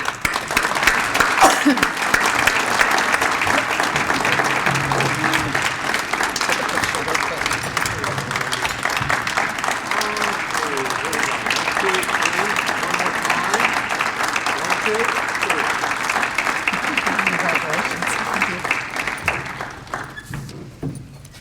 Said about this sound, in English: Please join me in giving a round of applause as we welcome Dr. Denise Spears Roddy to the stage